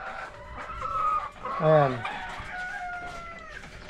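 Chickens cluck and a rooster crows mid-clip among farm birds at moderate distance, with a person speaking briefly under the calls.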